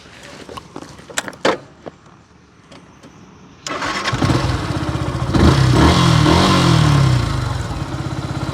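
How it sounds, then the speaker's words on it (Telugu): After a few clicks and handling noises, a 2021 Yamaha FZ S V3 motorcycle engine catches on the self-starter with one press and settles into a loud, steady idle close by. "సింగిల్ అండ్ ఒకటే క్లిక్తో బండి స్టార్ట్ అయిపోతుంది"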